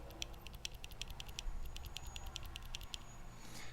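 Zealio V2 mechanical keyboard switches being typed on, a rapid patter of crisp keystrokes in an uneven rhythm, quiet and close over a low rumble.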